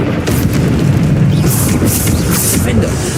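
A Bombarda spell explosion in the video game Hogwarts Legacy gives a loud, deep, rumbling boom that rolls on continuously, with crackling bursts layered over it.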